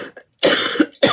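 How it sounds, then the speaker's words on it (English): A single sharp, close cough bursts out, followed by a quick second cough right after. "Now I'm going to cough for you."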